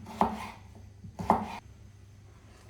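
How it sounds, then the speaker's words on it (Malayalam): Vegetables such as potato, raw plantain, beans, carrot, ivy gourd and green chili are chopped with a knife, giving two sharp, close clusters of chopping strikes about a second apart. "അപ്പോൾ വെജിറ്റബിൾസ് എല്ലാം അരിഞ്ഞ് കഴിഞ്ഞു കേട്ടോ"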